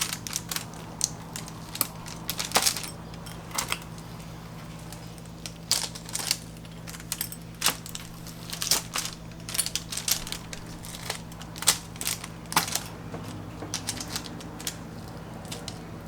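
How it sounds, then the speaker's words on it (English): Knife cutting through keto cheesy bread into small breadstick slices, a run of crisp crunching cuts and taps repeating irregularly over a steady low hum. "you just want to cut right into it and you're just going to cut little slices of breadsticks"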